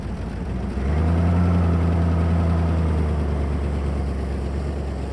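An old Ford Mustang Cobra engine idles steadily after sitting abandoned for years, a continuous low rumble that grows slightly louder after the first second and then holds even, with no speech.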